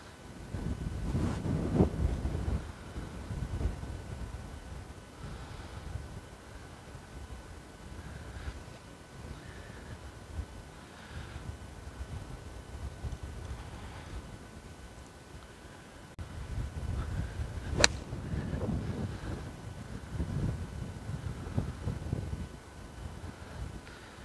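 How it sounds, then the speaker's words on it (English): Strong wind gusting across an open golf course, a steady broadband roar buffeting the microphone with louder surges near the start and again in the second half, no voices. "that is a strong wind"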